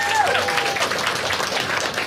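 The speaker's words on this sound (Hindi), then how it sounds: "बार हरीश के लिए सब लोग ताली बजा दो." Audience applauding for a guest named Harish at a Pride-themed stand-up comedy crowd-work show, a dense wash of clapping from a crowd, steady and fairly loud, with a brief voice at the start.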